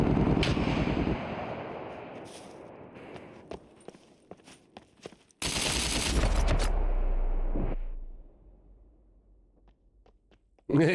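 Gunfire from a weapon in the video game SCUM: a loud burst of shots at the start, scattered sharp reports after, then a second heavy, sustained blast of fire that tails off, with a voice speaking over parts of it.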